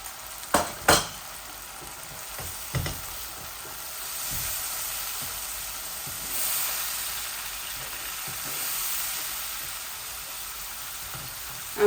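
Spices with coriander and bottle gourd fry in oil with a soft, low sizzle that swells gently a few times, punctuated by a couple of sharp utensil clinks near the start; quiet overall and without speech.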